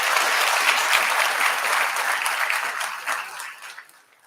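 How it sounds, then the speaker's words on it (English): Sustained applause from a graduating EMS class and audience fills the room, a dense steady wash of clapping that thins and fades out over the last second. "Can we just give all of our classmates a round of applause again?"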